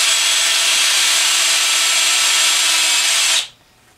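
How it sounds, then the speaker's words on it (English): A power drill bores holes through PVC on a woodturning vacuum chuck, a loud, steady, close whirring whine that runs for about three and a half seconds and then cuts off abruptly. "drill a couple of holes in here."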